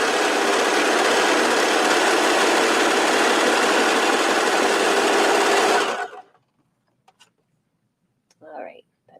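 Sewing machine stitching binding onto a knit tank top, a loud, steady, close whir for several seconds that stops abruptly, followed by quiet handling sounds and a brief voice.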